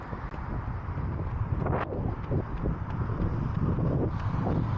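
Steady outdoor wind buffets the microphone during a run in Riga, a continuous broadband rushing roar with gusty swells and no speech.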